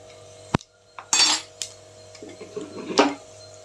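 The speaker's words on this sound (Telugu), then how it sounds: "ఇప్పుడు ఇవి రెండు కలుపుకున్నా మంచిగా" A spoon clinks and scrapes against a pan a few times while spinach and meal maker curry is stirred, with sharp metallic taps standing out over a quiet background.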